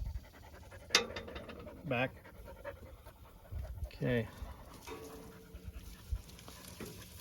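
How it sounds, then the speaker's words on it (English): A dog pants in short, breathy bursts close by, in a few separate bouts. A person says a couple of brief words over low background noise. "the dog's over here thinking she needs a petting."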